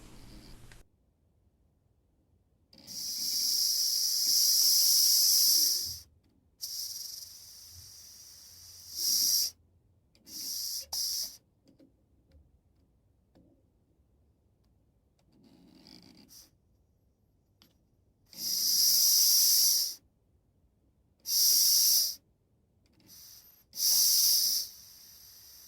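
The gas regulator on a Clarke 135TE MIG welder hisses loudly in several separate bursts as it is adjusted. The bursts vary in length, from several seconds to brief spurts, with near-silence between them.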